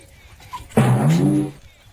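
A single close, drawn-out dog whine or howl lasting under a second, rising out of quiet room noise.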